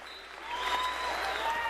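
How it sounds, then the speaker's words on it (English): A basketball crowd of home fans cheers and applauds steadily at a district championship game, the roar swelling after a moment and holding loud and dense to the end. "And the Panther faithful are starting to feel it, Bob. They're starting to cheer."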